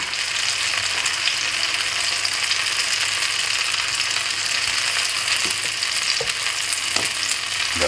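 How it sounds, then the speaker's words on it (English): French toast frying in butter and sugar in a pan, a loud, continuous close sizzle that holds steady throughout, with a couple of faint clinks near the end. "I'm going to turn our French toast one more time, evenly cook it."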